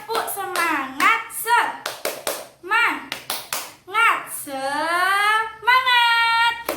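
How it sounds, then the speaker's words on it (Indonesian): Rhythmic clapping chant in an elementary school class led by a teacher, sharp hand claps in quick bursts alternating with children's and the teacher's chanted voices, close and lively. "Tepuk semangat semangat."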